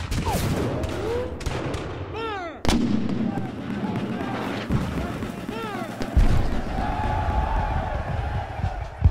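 Artillery cannon fire at a Shiloh battlefield reenactment, a booming volley with a sharp blast partway through, loud and close over rumbling echoes, crackling gunfire and distant shouting.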